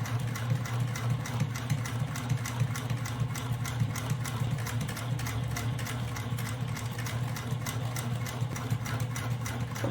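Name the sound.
sewing machine stitching fabric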